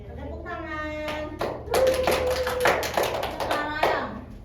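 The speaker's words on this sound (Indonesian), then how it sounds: "Tepuk tangan." In a university micro-teaching class, a group claps in a short rhythmic burst mixed with chanting voices, close and fairly loud, with sung or called-out voices before and after the claps.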